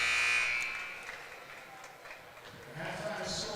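A buzzer sounds at the end of a half in a girls' high school basketball game in a gym, loud at the start and fading within a second, followed by crowd noise with talk over it.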